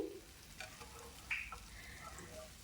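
Bundi batter fries in very hot oil with a faint, steady sizzle and a few small crackles, heard on its own.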